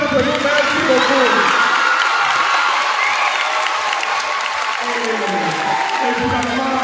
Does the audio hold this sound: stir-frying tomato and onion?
no